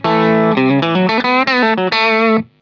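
Country electric guitar run through a compressor with no delay, playing a quick, dry melodic phrase of clipped, evenly sustained notes that stops cleanly after a couple of seconds, close and loud with no talking.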